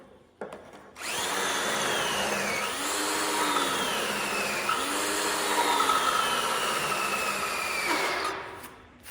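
A reamer bit spun by a power drill enlarges holes in a steel Kenworth truck frame, giving a loud, steady high whine for about seven seconds that dips in pitch as the bit loads up, with no talking.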